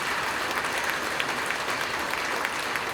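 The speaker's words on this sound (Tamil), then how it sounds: "உண்மையிலேயே அதுக்கு ஒரு கைத்தட்டல் கொடுங்க" A seated audience at a speech event breaks into steady applause, dense even clapping from many hands at moderate distance, sustained throughout without talking.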